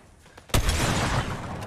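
A single sharp sniper rifle shot from Fortnite cracks out loud and close, followed by a ringing, rumbling tail, with no voices over it.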